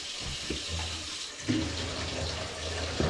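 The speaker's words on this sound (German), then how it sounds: "So dass ich jetzt ein bisschen Wasser laufen lassen werde, ein bisschen durchspülen." Water runs into a pipe to flush it through during drain cleaning, a steady close hiss and splash with small gurgling bumps, with no talk.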